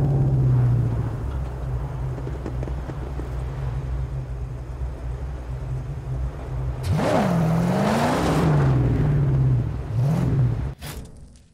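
Car engines from the Gas Town race in the Mad Max video game, a steady droning hum that surges into loud revving and accelerating whines partway through, then cuts off near the end.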